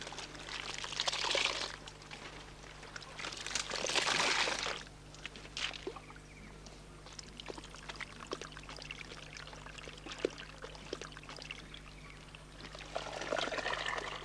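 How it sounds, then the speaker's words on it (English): Water pours and trickles in bursts as sago starch is washed from wood pulp and filtered through a leaf-stem trough in a Korowai forest camp, quiet and close with faint dribbles between the louder pours. "Sago starch is washed from the wood pulp and filtered in a trough made from the rigid stem of a leaf."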